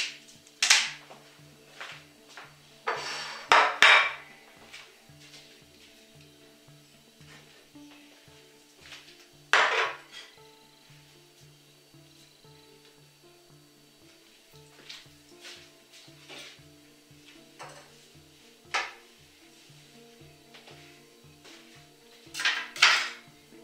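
Tropical salad being tossed in a bowl, with scattered clinks and scraping knocks of a utensil against the bowl, louder bursts now and then over a quiet background.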